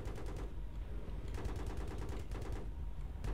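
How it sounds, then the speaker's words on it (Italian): Continuous automatic gunfire from the Battlefield 3 video game, dense rapid bursts of shots with brief gaps, loud and close throughout. "Guarda qui, spara al benzinatoio, vai Dario."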